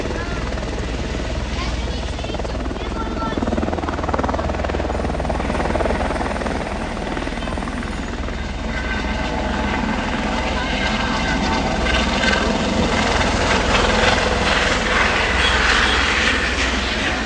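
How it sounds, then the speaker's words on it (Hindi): Several helicopters fly overhead near Mussoorie in the hills: a steady, loud rotor whirr and engine roar that holds for the whole stretch, with voices talking underneath. "કેટલા બધા હેલિકોપ્ટર હતા"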